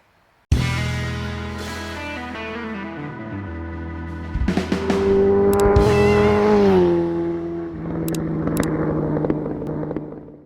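A Ducati 900SS motorcycle engine runs on only one cylinder, sounding loud and close with uneven revving and a steady idle.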